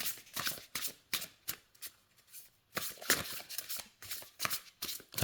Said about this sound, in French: Alors, les cartes se mélangent.